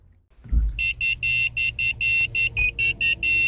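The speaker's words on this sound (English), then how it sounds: "you'll hear a beeping tone, which means that the key chip programming was successful" A quick run of about ten high electronic beeps from a key programming tool signalling a successful Ford Flex key chip programming, in an even rhythm, loud and close, after a soft thump at the start.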